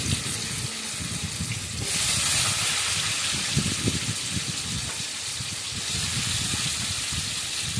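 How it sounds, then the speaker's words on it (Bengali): Mango pieces with dried chilli hit hot oil in a pan, giving a loud, steady hissing sizzle that swells and stays broad throughout, close up with no talking. "এরপর দিয়ে দিচ্ছি আমি আম,"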